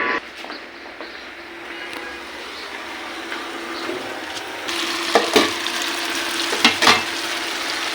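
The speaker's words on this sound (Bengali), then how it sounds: "এখানে আমি হলুদ মরিচ আদা বাটা পেঁয়াজ পাতা সব দিয়ে মশলাটা কষিয়ে নিয়েছি" Spice paste of turmeric, chili, ginger paste and onion greens frying in a pan, a close bright sizzle with stirring, growing louder midway with several sharp scrapes and clanks.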